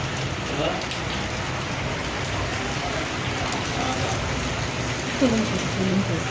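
Steady rain falls as a dense, even hiss throughout, with faint voices or sounds briefly audible in the background.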